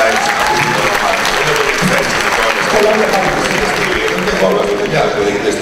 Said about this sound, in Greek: Τουλάχιστον θέλει ένα χειροκρότημα